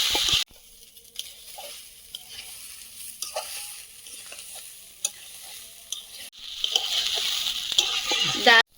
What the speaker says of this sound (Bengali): ডাল আর ডালিয়াটা মশলার সঙ্গে ভেজে নিয়েছি